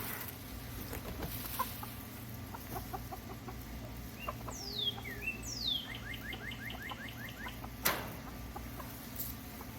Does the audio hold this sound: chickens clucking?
yes